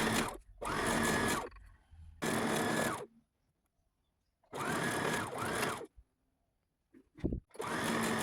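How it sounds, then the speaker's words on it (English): Sewing machine stitching culottes fabric in four bursts of steady motor whir, each one to two seconds long, with short quiet pauses between them, close up and with no talk. "Sew again with a double stitch and serge both the left and right sides"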